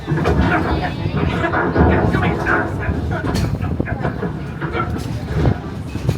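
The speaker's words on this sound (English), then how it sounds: "Peter, that's not a snake. It's a train." A train rumbles along steadily with rhythmic rattling, loud and close, while voices talk over it.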